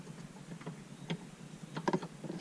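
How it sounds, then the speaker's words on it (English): Bolts are hand-threaded into slotted hardtop brackets, giving light, irregular metallic clicks and small rattles up close, sparse at first and then clustering in a busier burst near the end. "I'll just get the bolts started"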